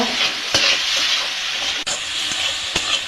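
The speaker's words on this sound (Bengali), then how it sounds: "এটা নাড়াচাড়া করে পুর তৈরি করে নেব। নাড়াচাড়া করে ভেজে নেব।" Pitha filling with sugar sizzles steadily in a pan while a spoon stirs it, giving close, continuous frying hiss broken by a few sharp scraping knocks.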